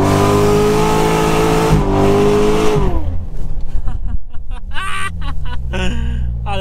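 A 650 HP Corvette C7 Z06 pulling onto a street: a loud, close engine drone holds steady, dips as the revs fall, then returns in throaty, uneven bursts of acceleration.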